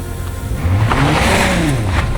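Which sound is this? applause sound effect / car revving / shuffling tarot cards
car revving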